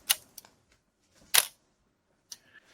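An Argus CR1 SLR camera wound and fired up close: a quick ratcheting wind, a small click, then a sharp shutter snap, followed by a faint later click, all in a quiet room.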